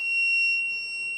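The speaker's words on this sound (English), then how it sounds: "So I'm just going to flip my multimeter on here. And I'm going to put it on the buzzer." A multimeter's continuity buzzer sounds a steady, piercing electronic tone, continuous and close for just over a second.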